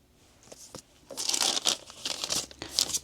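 A plastic or glassine bag crinkles up close while an art order is packed, with soft scattered rustles at first building into a series of sharper crackling crumples.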